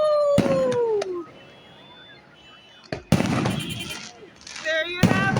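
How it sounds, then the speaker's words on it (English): Fireworks at Jamaica's 63rd Independence Day celebration, sharp loud bangs and crackling bursts separated by whistling rises and quieter gaps, with voices and cheering in the background. "But my main thing is the fireworks."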